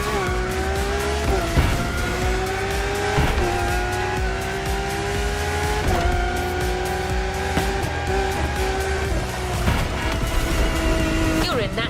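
A Lamborghini racing in The Crew Motorfest, engine revving hard through repeated gear shifts with rising pitch sweeps, tires squealing as it overtakes traffic, loud and close throughout.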